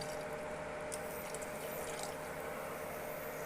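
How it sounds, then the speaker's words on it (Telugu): Water is poured into chicken gravy cooking in a pan at a street-food stall, giving a steady, even rush of liquid that runs for the whole stretch with no voices. "ఫైనల్గా కొంచెం వాటర్ యాడ్ చేస్తున్నా ఫ్రెండ్స్,"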